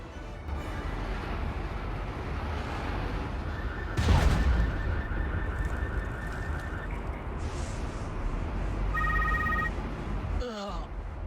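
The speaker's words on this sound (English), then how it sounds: "Phone is ringing." A telephone rings inside the video game Spider-Man: Web of Shadows, as steady electronic ring tones over a dense bed of game sound, with a second short burst of ringing near the end.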